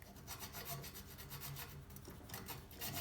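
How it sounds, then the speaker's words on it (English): A file rasps at plastic on a vintage Italian Atala bicycle part in steady back-and-forth strokes, a close, dry scraping that repeats in an even rhythm, quiet and with no voices. "So let's do some filing."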